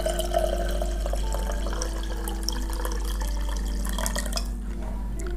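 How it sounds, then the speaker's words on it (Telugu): Water trickles and drips into a bowl while Ugadi pachadi is being made, a thin, close liquid pour over a low steady background hum, with no speech. "ఇప్పుడు మనము ఎంత పచ్చడి చేసుకుందాం అనుకుంటున్నామో అంత వాటర్ యాడ్ చేసుకోవాలి."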